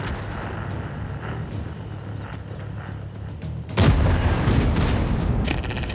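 Tank guns firing in World of Tanks, with steady rumbling battle noise and a single loud, sharp boom near the midpoint that leaves a heavier roar afterward.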